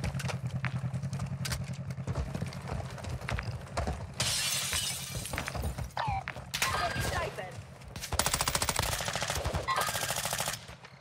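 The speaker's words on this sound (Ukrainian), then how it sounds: "Стріляє по мені." Gunfire in the Call of Duty Modern Warfare II DMZ mode: rapid bursts of automatic fire and sharp shots come in clusters, with mechanical clatter and shattering sounds between them, while players talk over the action.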